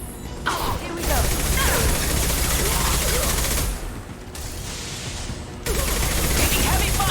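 Heavy gunfire in the video game Mass Effect: dense, continuous bursts of shooting and impacts fill the clip, dropping briefly near the middle before resuming at full force, with speech mixed in.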